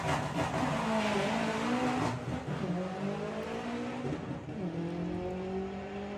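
Volkswagen drag cars launch at a Bug Jam qualifying round on a drag strip, engines roaring loudly and climbing in pitch through repeated gear changes as they accelerate away, with no one talking.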